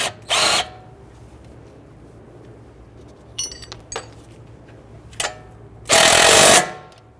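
Power tool snugging down the front CV axle nut on an Infiniti G37x, fired in short whirring bursts, a brief one, then a longer final burst, with faint clinks and handling noise between them.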